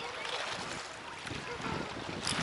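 Wind blows steadily and roughly across a Black Sea pier in Odesa during evening fishing, a constant broadband rush with slight gusts that grows stronger at the end.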